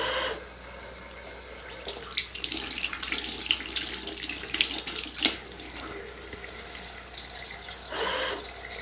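Water runs from a tap into a sink during handwashing at a sensor soap dispenser, a steady close splashing hiss with brief louder splashes as hands move through the stream.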